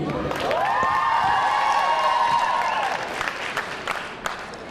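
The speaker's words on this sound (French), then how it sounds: "Merci d'applaudir la candidate numéro 10, Juliette Daniel" An audience at the Miss Beaujolais 2011 pageant applauds a contestant, steady clapping filling the hall for several seconds before thinning out, with a loud amplified tone over it and scattered sounds at the end.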